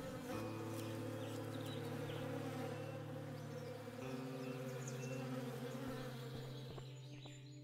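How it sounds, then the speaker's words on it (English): Bees buzzing in the video game Above Snakes, a steady droning hum with layered tones that holds evenly throughout, faint and ambient with no talk, ending in a small click. "I hear bees"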